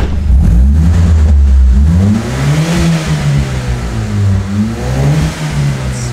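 A turbocharged Mitsubishi Lancer engine runs near the microphone with a steady, loud mechanical drone, its pitch wavering and rising slightly in places, running continuously with no talk.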